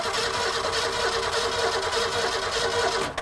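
A 200 inline-six engine in a cheap classic car cranks over steadily, a loud, continuous mechanical churn that holds evenly throughout before cutting off abruptly at the end.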